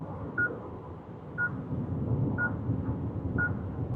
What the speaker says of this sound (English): That really is quite annoying, that beeping.